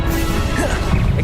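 Confringo spell blast in the Hogwarts Legacy video game: a short, crashing impact amid a dense wash of battle noise, close and loud with no quiet gaps.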